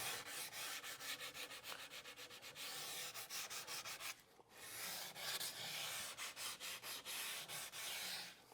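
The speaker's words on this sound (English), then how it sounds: "just take some fine sandpaper and even though we routed the edges, just go over them again" Fine sandpaper rubs by hand along the routed edges of a wooden Greene & Greene picture frame in quick rhythmic back-and-forth strokes, close and steady, with a brief pause midway and no talking.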